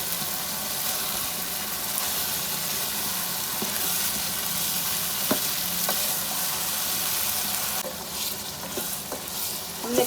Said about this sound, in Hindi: टिंडे डाल देते हैं और गोश्त को अच्छी तरह भून लेते हैं।